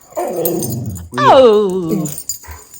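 German Shepherd rescue puppies make close, drawn-out whining and yowling vocalizations, with a short whimper first, a louder wavering howl-like cry next and a brief yip at the end, while a person speaks briefly.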